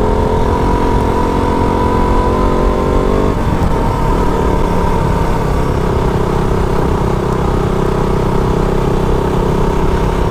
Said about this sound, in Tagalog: Anda yung motor.